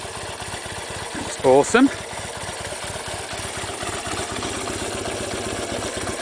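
A 1972 Honda SL175 motorcycle idles close by with an even, steady pulsing rhythm and a throaty induction note throughout, while someone speaks briefly over it.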